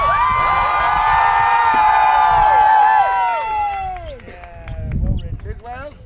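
A crowd at a joust cheers and shouts loudly with many overlapping voices, then fades, and a low rumble of hooves briefly rises near the end.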